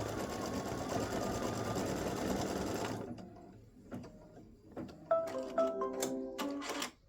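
Embroidery machine stitching the fill of a scissors-handle design, a dense steady mechanical whirr for about three seconds that stops, followed by scattered clicks, taps and short tonal beeps as the machine halts.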